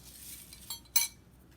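A spoon clinks against a bowl while stirring cereal and banana, two quick faint metallic taps over quiet room tone.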